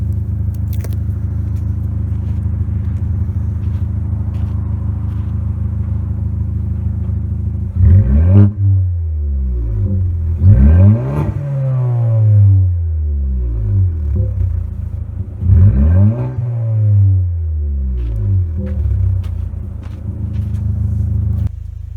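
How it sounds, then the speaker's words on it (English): A 2018 Ford Escape EcoBoost turbo with a free-flow intake and budget high-flow exhaust drives off from a steady idle, its engine rising in three clear acceleration pulls with gear changes between, a deep growl heard from inside the car. "we're going for a ride. Ford Escape Turbo. I did the intake and exhaust mod"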